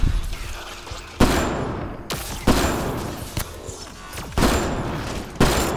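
Gunfire in Mass Effect: Andromeda rings out as a handful of sharp, loud shots spaced irregularly about a second apart, each leaving a brief ringing tail over constant background noise.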